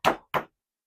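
A slab of clay smacked down twice by hand onto a wooden table for pulling a mug handle, two close, sharp slaps with a brief gap between them, then silence.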